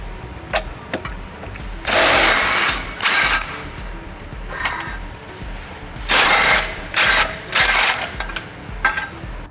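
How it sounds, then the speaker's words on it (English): A ratchet with a 17mm socket clicks in repeated bursts while removing the tow hook bolts on a 2014-2019 Toyota Highlander, close and loud, with short pauses between strokes. "using a 17mm socket, we're gonna remove 2 bolts holding the tow hook."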